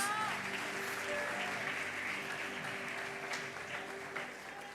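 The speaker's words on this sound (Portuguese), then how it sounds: "Uma salva de palmas para Jesus," Applause from a church congregation during an evening service, a soft, continuous patter of clapping heard at some distance, with faint tonal music or voices lingering underneath.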